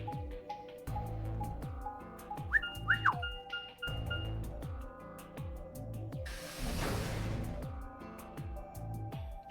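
A human voice imitates the R2-D2 droid's whistle with a few quick warbling chirps and rising-falling tones, set within game music with rhythmic beats and a noisy swell partway through.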